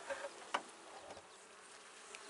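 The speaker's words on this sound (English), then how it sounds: "we want to see that there's a lot of bees up in this upper box" Honey bees in a hive's upper box above a queen excluder, lid just lifted, give a faint, low buzzing hum with a few brief louder passes close by.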